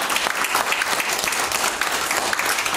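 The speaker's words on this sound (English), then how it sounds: "Give the Lord a hand clap." A church congregation claps their hands: dense, sustained applause from many people, loud and close, filling the whole stretch without a pause.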